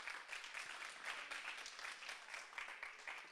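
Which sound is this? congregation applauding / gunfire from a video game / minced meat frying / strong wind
congregation applauding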